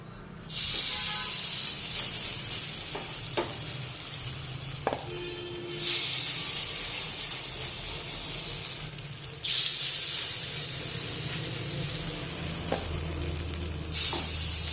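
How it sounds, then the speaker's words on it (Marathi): Spoonfuls of green moong appe batter hitting an oiled appe pan, giving a soft ongoing sizzle with three louder hissing bursts as each portion drops in, plus occasional light metallic taps. "आता आप्पे पात्राला तेल लावून झाल्यानंतर एक एक चमचा मिश्रण या आप्पे पात्रामध्ये सोडून घेऊया"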